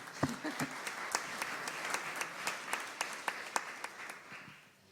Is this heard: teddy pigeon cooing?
no